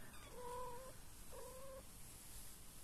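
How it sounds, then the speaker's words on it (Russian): A 20-day-old kitten gives two faint, high, thin mews in a quiet room, one after the other with a short pause between. "котеночку сегодня 20 дней."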